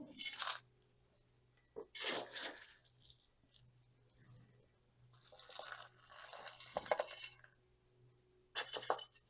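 Two potting soils are mixed by hand for repotting a Portulacaria afra bonsai, making gritty, crunchy bursts of scraping and rustling in separate spells, with quiet gaps between them.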